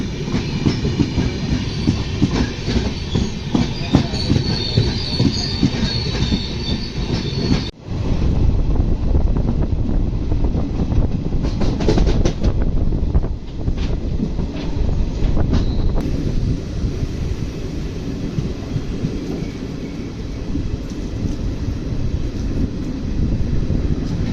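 A Konkan Railway passenger train runs steadily with a loud, continuous rumble and rhythmic clickety-clack of wheels on track, heard from inside a moving coach, with a sudden brief dip before the roar resumes.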